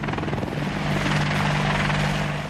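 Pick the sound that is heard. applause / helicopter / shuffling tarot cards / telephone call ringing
helicopter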